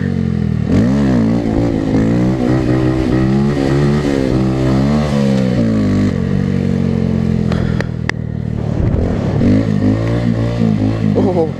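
A motorcycle engine revs through rising and falling pitches while pulling a wheelie in snow, loud and close throughout with a continuous rough drone.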